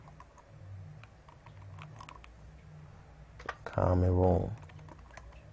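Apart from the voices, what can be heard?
typing on a computer keyboard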